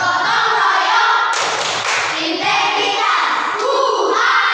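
A school class clapping along to the rhythmic 'Tepuk PPK' chant, loud dense hand claps and thumps filling the room continuously, with children's voices mixed in.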